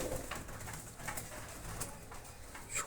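Soft, low cooing of racing pigeons at a pigeon farm, repeating in a steady rhythm, gentle and nearby with a faint background hiss.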